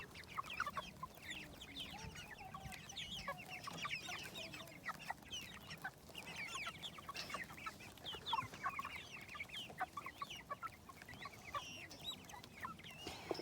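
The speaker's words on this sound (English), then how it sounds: "There's the meat chicks." Meat chickens in a farm pen, many birds clucking and chattering at once in a continuous, busy flock murmur, moderately close with no people talking.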